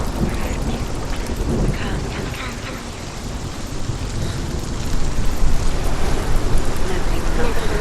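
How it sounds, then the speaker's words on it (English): Stormy weather in the video game Hellblade: Senua's Sacrifice, with dense steady rain and low rolling thunder filling the background, swelling louder in the last few seconds. "there's awful noises in this stormy world"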